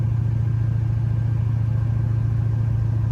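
A 1969 Camaro on a test drive gives off a steady, low engine rumble from close by, droning evenly throughout with no talking.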